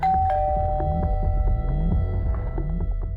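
An electronic doorbell chimes repeatedly in a looping melodic pattern, steady and fairly loud, with no voices.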